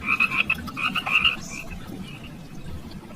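Frogs croak loudly in a series of rapid, rasping calls that cluster in the first second and a half, then trail off into quieter, sparser croaks over a steady background chorus.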